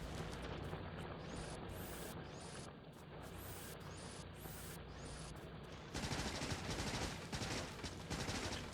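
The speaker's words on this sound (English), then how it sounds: "It's kind of funny that you can shoot trees down." Rapid automatic gunfire shooting down trees in Factorio, a dense, continuous rattle that steps louder and harsher partway through, with no voices.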